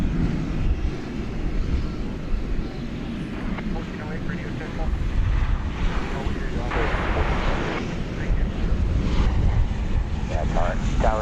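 An American Airlines Boeing 737-800 jet from Jacksonville rumbles at DFW Airport in a steady, fairly loud engine roar, with voices and wind noise over it.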